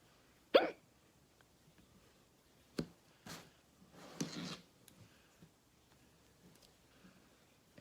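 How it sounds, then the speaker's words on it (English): Someone hiccups during a crochet lesson in a quiet room: a sharp, faint hiccup, then several softer scattered ones spread over a few seconds. "my videographer has the hiccups"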